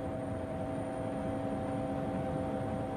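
A cartoon helicopter in flight coming down to land, an even, continuous engine drone with steady tonal hum, unchanging and alone without talk.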